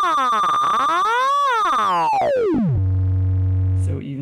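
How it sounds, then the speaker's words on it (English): A 555-based VCO module on an AE Modular synth gives a loud, steady electronic tone with a soft, triangle-like wave. Its pitch sweeps up and down, glides low, holds a buzzy drone, then turns glitchy at the end. "now it sounds more like something almost triangle wavy"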